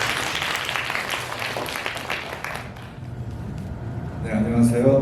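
An audience in a class-review session applauds to welcome a 3D character modelling professor, a few seconds of clapping fading out, then a voice begins speaking.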